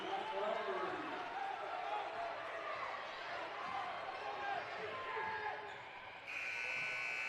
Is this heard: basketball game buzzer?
yes